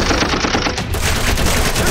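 AK-47 fire in the Combat Master shooter game, a rapid loud automatic burst of close, rattling shots running continuously for about two seconds.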